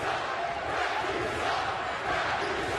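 A basketball arena crowd at an NIT game roars in protest at the officials, a dense continuous wall of voices filling the whole moment with no break.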